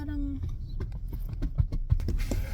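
Horses clip-clop nearby at an outdoor spot where people gather for cornhole games, a loose run of hollow hoof knocks with a couple of sharper strikes, while voices sound faintly in the background.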